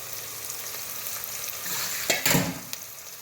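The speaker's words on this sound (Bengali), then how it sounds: "লইটে ছুটকি আগে একটু তেলের মধ্যে একটু বেঁধে নেই" Dried loitta fish sizzling and frying in hot oil, a steady close crackle that swells with a sharper burst of spattering near the end as it is stirred.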